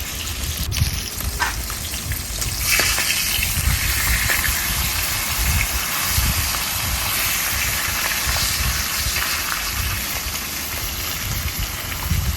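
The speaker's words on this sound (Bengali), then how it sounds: "এই অবস্থায় গরম তেলের মধ্যে আমি মাছগুলো দিয়ে দিচ্ছি" Folui fish fry in hot oil in a kadai, a loud, steady, close sizzling hiss with bursts of spattering and crackle that continue unbroken throughout.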